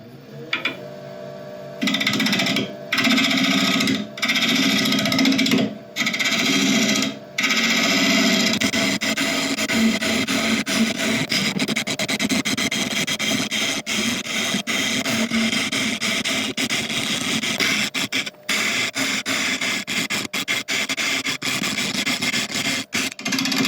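Hollowing a burl wood form on a lathe: a loud, steady broadband whir of cutting runs throughout, with brief breaks early on as the tool leaves the wood, then continuous grinding noise.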